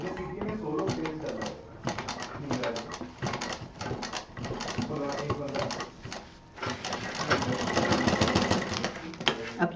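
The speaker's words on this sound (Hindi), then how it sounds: "दूसरा कॉर्नर यहाँ से जोड़ देंगे सिलाई में" A sewing machine stitching the corner of a zipper pocket, a close, rapid mechanical chatter in bursts that stops briefly midway and then resumes, with a person talking alongside.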